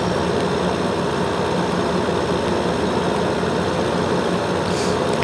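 A tractor engine in Farming Simulator 15 drones steadily at close range, a continuous, unchanging low rumble with no talk over it during a corn and potato harvest.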